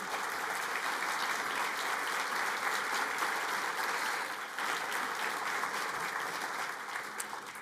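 Sustained applause from a large audience at a state bar association luncheon, dense and steady for several seconds before tapering slightly at the end, with no talking over it.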